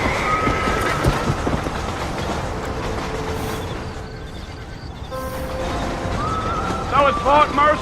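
In the Western video game Red Dead Redemption, a train passes close by with rolling rail clatter and rumble, while horses whinny and people talk over it.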